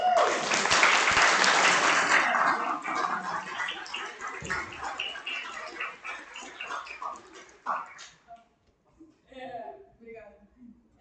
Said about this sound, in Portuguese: Vamos bater palmas inicialmente, né?